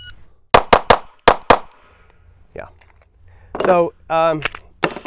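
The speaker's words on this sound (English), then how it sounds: "We'll shoot the last 5 rounds or whatever we got in the SIG." A SIG P365 compensated pistol fires five sharp, loud shots in an uneven rhythm. Brief voices follow close by after a short pause.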